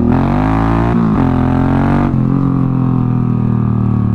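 A Royal Enfield-style I RIDE 705 bobber motorcycle engine runs loud and close in cold weather, its steady drone breaking briefly around one and two seconds as gears shift, then settling into a lower rumble.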